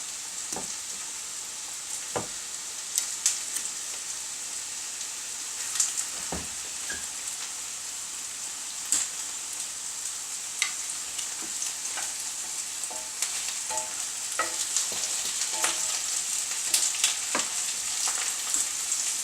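Food frying in a pan with a soft, continuous sizzle and scattered crackles and pops, heard at a moderate distance with no one talking.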